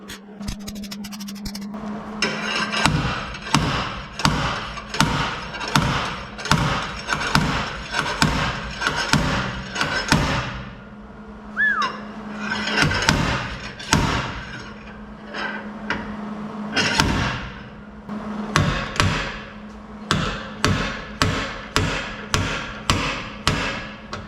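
A hammer strikes the sheet-metal bodywork of an AE86 Corolla while a crease is pulled, sharp metallic blows in steady rhythmic bursts of several hits, close and loud, with a brief pause in the middle.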